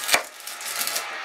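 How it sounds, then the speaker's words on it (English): A knife slicing the top and root off a white onion on a cutting board, one sharp chop followed by softer crisp scraping cuts, close and alone. "grab one white onion, peel it or cut off the top and the root like so"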